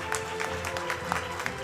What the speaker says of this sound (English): So a big round of applause for all our unit heads.